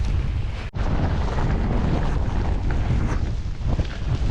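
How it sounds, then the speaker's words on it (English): Gale-force headwind buffeting the microphone with driving rain while cycling uphill on the island of Rum, a loud continuous broadband roar with one brief dropout early on. "Got like a gale force headwind, driving rain."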